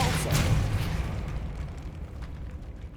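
Depulso spell cast in Hogwarts Legacy: a loud burst with an explosive boom that fades into a rumbling tail over a few seconds.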